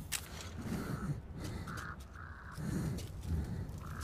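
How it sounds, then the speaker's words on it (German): Crows cawing inside the video game Metro Last Light, several short harsh calls spaced across a few seconds over a low ambient game background, moderately faint and without talk. "Echt nice, die Vögel."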